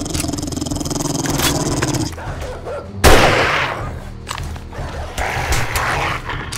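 Dogs in a dog horde in the video game 7 Days To Die snarl and bark amid loud bursts of gunfire, with a sharp heavy blast midway and continued chaotic combat noise.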